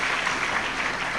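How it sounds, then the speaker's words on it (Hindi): Audience at a Hindi religious discourse on Somnath Jyotirlinga breaking into brief, dense clapping that stays fairly even and moderately loud for just over a second, with no talk over it. "अरे ताली तो ठीक से बजाइए"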